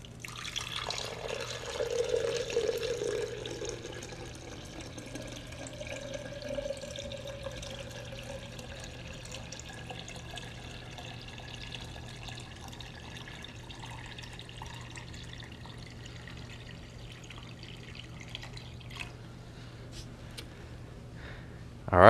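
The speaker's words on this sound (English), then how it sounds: "And now I'm going to fill this with water" Tap water runs steadily into a pitcher for a water tank gauge test, a soft continuous splashing that settles into a quieter flow with faint drips near the end.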